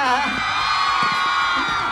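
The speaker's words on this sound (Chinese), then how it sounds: "听听看尖叫声。" A large crowd of fans screams and whoops along the red carpet at the 23rd Golden Melody Awards pop music ceremony, a dense, loud, continuous wall of high-pitched shrieks from many voices.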